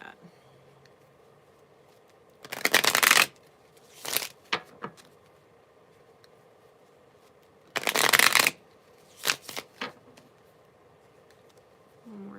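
Tarot cards being shuffled by hand in two main bursts of rapid riffling, each followed by a few short flicks and taps, crisp and close against an otherwise quiet room.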